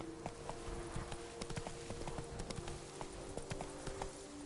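Hooves of a horse galloping in The Witcher 3 beat in a steady, rapid clip-clop, loud and continuous over faint game background sound.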